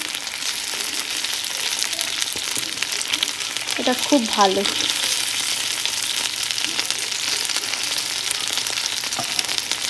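Lentil fritters fry in hot oil in an iron wok, a steady close sizzle running throughout with a brief burst of clatter as they are turned; a voice speaks briefly.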